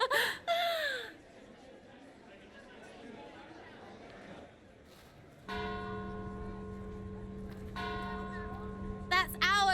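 Bells ring in the video game Trespasser, a sustained resonant tolling that swells in the second half with clear ringing overtones, following earlier chatter and laughter from people in the room.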